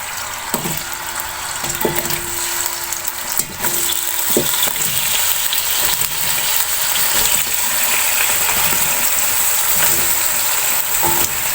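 Round-sliced potatoes frying in a pan for spicy cumin masala aloo, a steady hiss and sizzle with occasional stirring clatters and a brief tone, close and moderately loud, no talking.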